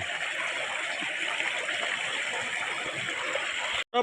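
A stream of water rushes steadily through a flooded rice field in the Konkan region during rice transplanting, a continuous close rushing sound that cuts off abruptly at the end.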